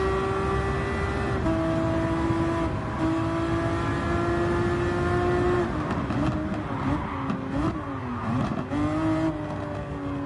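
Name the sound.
Ferrari race car engine at Monza in Gran Turismo 7 video game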